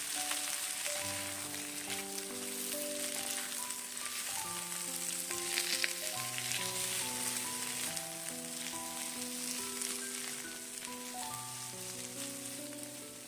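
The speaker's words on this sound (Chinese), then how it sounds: "再次翻炒均匀。" Noodles and bok choy sizzle and crackle as they are stir-fried in a wok, a dense steady frying hiss throughout, with music playing underneath.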